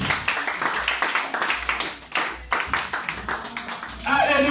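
A church congregation claps in a steady, lively rhythm during a worship service, with voices calling out and singing over the sharp, repeated claps.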